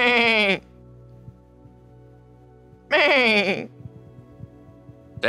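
Two loud bleats from a ram on a Devils River ranch, one at the start and another a few seconds later, with quiet rustling and faint background noise between them.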